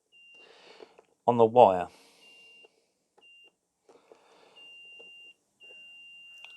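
Steady high-pitched multimeter continuity beeps sound in several long tones while checking wiring on a Titan leaf blower with a no-spark fault, with a brief loud voice and small handling clicks between them.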